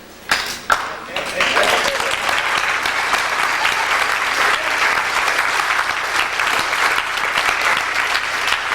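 Audience applause fills a hall at an air cadet squadron's annual ceremonial review, a dense, steady roar of many hands clapping that swells after a few opening claps and holds loud to the end.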